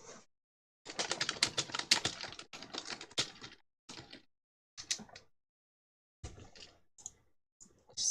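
Bursts of fast clicking keystrokes on a computer keyboard, close and crisp, arriving in irregular runs separated by short silent pauses.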